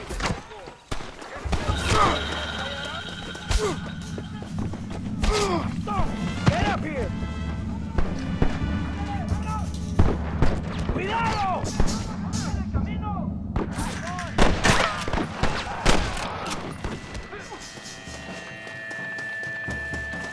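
Repeated gunfire from a shootout in the 2010 video game Red Dead Redemption, loud sharp bursts and cracks firing irregularly throughout over a low rumble, with shouting voices mixed in.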